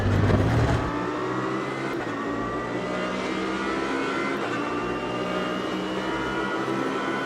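A GT3 race car on a push lap in the Automobilista 2 sim racing game, its engine holding a steady, loud drone at high revs throughout, with a brief heavier burst at the start and no voices.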